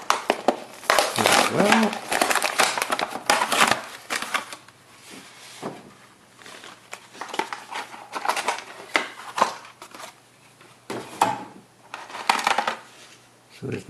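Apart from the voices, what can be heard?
opening a sealed 1989 Mega Force vehicle toy package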